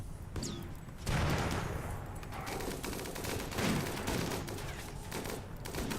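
Sustained gunfire during a RimWorld colony bunker defense in a tundra setting, with dense overlapping shots and bursts rolling continuously, loud and without talk.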